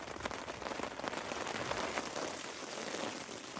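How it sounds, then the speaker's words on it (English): Rain patters steadily onto the cover of a bushcraft shelter during a very wet camp out, a faint, even hiss of drops with scattered small taps and nobody talking. "Oh, listen to that rain."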